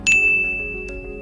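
A single bright notification bell ding rings out sharply at the start and sustains a long, slowly fading tone, alone over a soft background.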